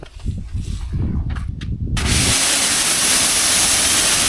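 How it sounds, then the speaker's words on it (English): A rubbing, scuffing sound gives way after a couple of seconds to a loud, steady hiss of cleaner sprayed onto a car hood that continues to the end. "can you spray the hood for me?"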